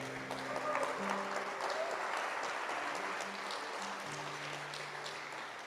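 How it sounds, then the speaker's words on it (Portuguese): A church congregation claps together, a soft, steady wash of applause lasting several seconds with faint sustained music notes underneath. "Você pode aplaudir o Senhor por isso?"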